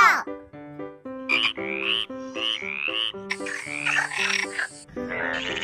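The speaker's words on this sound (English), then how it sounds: "F for frog." A frog for a children's phonics song gives a quick run of repeated, pitched croaks in a bouncy, tuneful rhythm, loud and close, with no talking.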